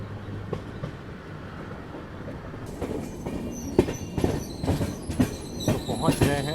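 A passenger train runs into Balharshah railway station with a steady rumble, then rhythmic wheel clacks over rail joints and faint squeals grow louder nearby, with a voice talking over it.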